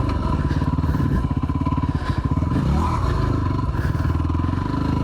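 A Yamaha WR250R on street gearing lugs along a dirt trail in first gear, its single-cylinder engine thumping low and loud with a throbbing rhythm up close, joined by rattles and scrapes from the bike over rough ground.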